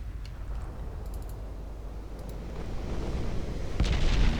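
Torpedo striking a warship in the naval strategy game Ultimate Admiral Dreadnoughts, a deep rumbling blast that builds over a continuous low battle roar and peaks in a loud burst near the end.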